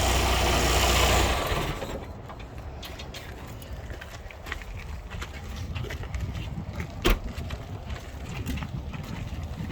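A truck engine cranks and fires for a pretrip inspection, a loud rumble in the first seconds that settles into a steadier low idle with scattered clicks and knocks around it.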